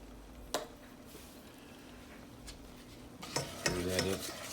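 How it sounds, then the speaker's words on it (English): Oyster Rockefeller ingredients with paprika and hot sauce are stirred in a pan, giving quiet scraping and gentle sizzling close by, then a louder wet stirring and squishing toward the end, with no talk. "Stir that up a little bit."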